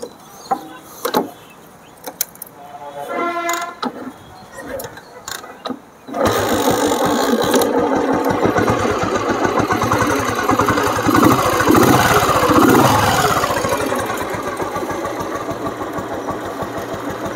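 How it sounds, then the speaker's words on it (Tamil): A 1989 Royal Enfield Bullet motorcycle is kicked over a few times with short bursts, then its engine catches and settles into a loud, steady thumping idle close by for the remaining seconds. "ஸோ கைஸ் வண்டி எப்படி இருக்குதுன்னு சொல்லி ஸ்டார்ட் பண்ணி காட்டுறேன் பாருங்கள்."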